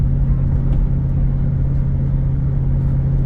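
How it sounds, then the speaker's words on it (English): 2004 Ford Excursion with a 5.4 engine accelerating uphill under load, a steady deep rumble heard from inside the cab with a constant low drone. "we're going up a hill right up in here, so I mean, it's definitely going to be under a load right now, and we're accelerating"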